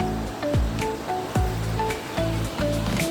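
Strong flow of water at Vasundhara waterfall, a dense continuous rushing roar, close and loud, alone without voices.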